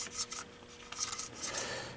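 A Q-tip rubbed back and forth through the grimy ridges of a disassembled MEI part, giving soft, close scratchy rasping strokes in short bursts.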